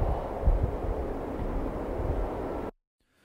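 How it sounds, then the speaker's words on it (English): Designed wind for a sound redesign, layered in Ableton with a general atmosphere bed, blows as a steady, full rushing roar that cuts off abruptly into silence near the end. "layering those two together kind of lets me have the general Atmos sound while also having a bit more control over the actual wind"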